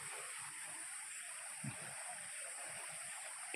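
Water rushing steadily near Curug Cibeureum waterfall on Gede Pangrango, a constant broadband hiss and gurgle with a few soft splashes, moderately faint and unbroken.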